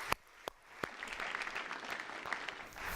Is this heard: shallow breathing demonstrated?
no